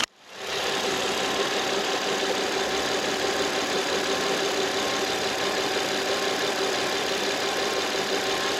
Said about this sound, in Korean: 이렇게 엔진 소리 바로 들어보도록 하겠습니다